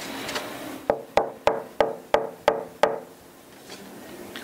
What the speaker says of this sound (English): kind of knock on it